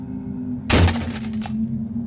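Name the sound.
loud thud of something heavy falling on a roof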